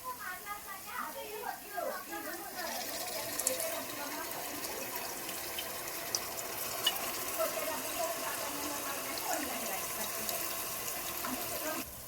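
Onions frying and being stirred in a pan while preparing Karnataka-style uggani, a steady soft sizzle with scraping stirs throughout, mixed with water or faucet-like sounds and faint background activity.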